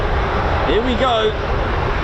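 A US Air Force KC-135 tanker powered by CFM International jet engines of 21,600 pounds of thrust each roars steadily and loudly at RAF Mildenhall, a constant broad jet noise with a voice speaking over it.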